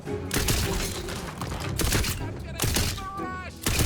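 Weapon fire in Tiny Tina's Wonderlands, dense bursts of loud, close shots and impacts that come in waves, with people talking over the shooting.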